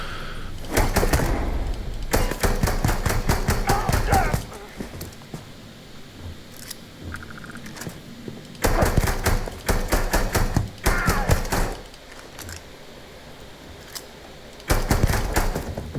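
Bursts of rapid gunfire from the Rattler weapon in Starfield, several loud rattling volleys of varying length separated by brief pauses, close and dominant.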